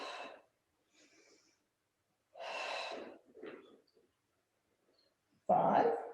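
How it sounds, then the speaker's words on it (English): Audible breaths during a pilates mobility and stability session: a couple of soft exhales early, then a louder, close breath burst near the end, with gaps of near silence between. "Exhale."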